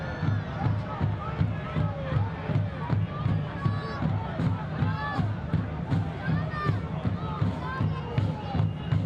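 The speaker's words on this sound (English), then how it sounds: "our referee coming over to Wamri, being booed by the Chattanooga home crowd" Home crowd at a Chattanooga FC versus Atlanta United soccer match, a broad sustained roar of voices filling the stadium, with a radio commentator talking over it continuously.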